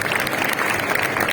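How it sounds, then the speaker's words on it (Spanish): Brief, dense round of clapping from a seated crowd at a Gamoneu cheese auction, steady and fairly close, with no distinct voices. "Bueno, un aplauso para Hotel Regente."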